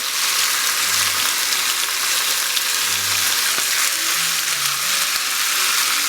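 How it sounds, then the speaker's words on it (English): Yogurt mixture poured over tomatoes and onions frying for chicken korma gives a loud, even, hissing sizzle that runs unbroken and close, with faint low clinks beneath and no talking. "We're going to add the yogurt mixture in here."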